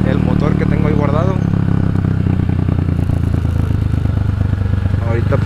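An Italika DT 150 Delivery motorcycle engine runs steadily during a test ride, its loud, close engine drone mixed with clatter and road noise, while someone talks over it throughout.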